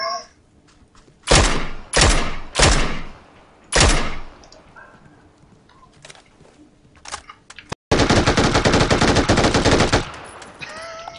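An MG3 machine gun in PUBG fires several short, loud bursts, then a sustained rapid burst lasting about two seconds, with softer clicks and thuds in between.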